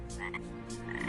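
A frog gives a few short croaks in quick succession, close by and soft, with no voices present.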